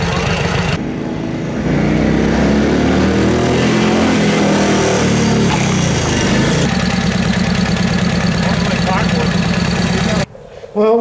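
A 1949 Harley-Davidson 45 motorcycle runs close by with a steady, throbbing engine note that shifts in pitch as it revs, then drops away abruptly near the end.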